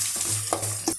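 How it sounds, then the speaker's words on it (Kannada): Onions, lentils and curry leaves frying for a tempering, with steady close sizzling and a couple of brief stirring scrapes across the second. "ಎಲ್ಲವನ್ನು ಚೆಂದ ಮಾಡಿ ಫ್ರೈ ಮಾಡೋಣ."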